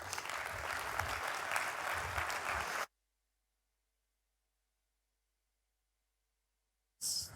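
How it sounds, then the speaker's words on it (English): An audience at a European tech summit applauds loudly for about three seconds to welcome a speaker, then falls silent before a brief burst of sound at the end. "Give him an applause."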